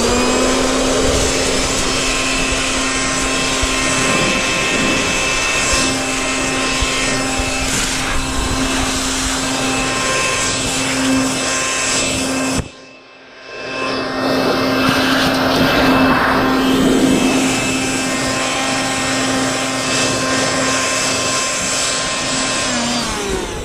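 Ryobi blower roaring steadily at close range while blowing ants out of gym equipment, cutting out briefly partway through and then resuming at full, continuous loudness.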